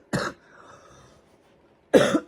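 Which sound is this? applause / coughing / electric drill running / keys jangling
coughing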